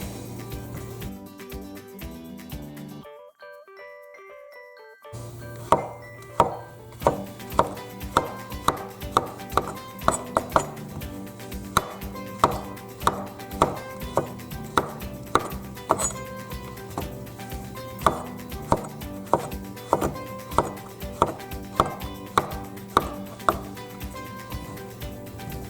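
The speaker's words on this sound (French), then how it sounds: "Là, on émince grossièrement le chou tsum." A knife chops Swiss chard coarsely on a board for a cashew chili chicken dish, giving a steady run of close, sharp, rhythmic knocks after a short pause near the start.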